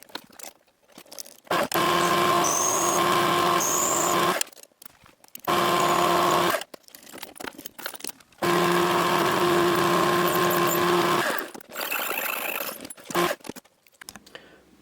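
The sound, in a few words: drilling parts for a steampunk weather machine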